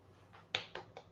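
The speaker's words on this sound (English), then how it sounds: "That was a great clap." A handful of quick, sharp hand claps, uneven and light, with the loudest near the middle followed by two softer ones, close and dry.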